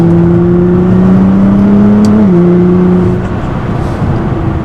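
Stock exhaust of a Nissan GT-R accelerating hard through turns, a loud, deep, steady engine drone with rising and falling tones, very close and continuous, easing slightly toward the end.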